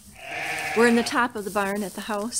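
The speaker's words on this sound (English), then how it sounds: "So you can hear the sheep downstairs." Sheep bleat from the floor below inside a barn, several wavering calls close together and fairly loud, overlapping a person talking nearby.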